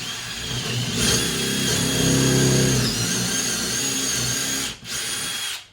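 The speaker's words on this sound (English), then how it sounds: "So I'm going to drill in right now, 3/8 inch." A power drill whirs steadily as it bores a 3/8-inch pilot hole for a floating shelf, the motor straining and rising in pitch, then briefly cutting out before spinning again.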